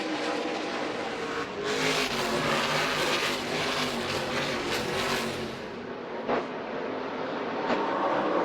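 Dirt race trucks roar around a track during a heat race at the Pinty's dirt truck event, a dense, loud engine drone with passing surges and rising revs.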